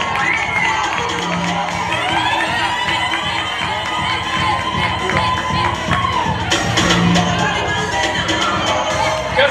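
A large crowd cheers, whoops and shouts at a sports final, with children's high voices in the mix; loud, dense and continuous throughout, swelling briefly near the end.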